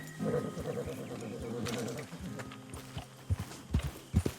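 Horse hooves clip-clopping in the video game Red Dead Redemption 2, a steady, fairly close trotting rhythm that ends in a few louder, sharper hoof strikes, with game ambience underneath.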